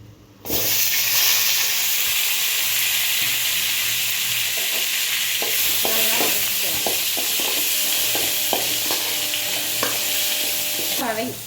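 Cut eggplant sautéing in a pan with mustard seeds and curry leaves for a tamarind curry, a steady loud sizzle and hiss throughout with occasional scraping stirs, no talking.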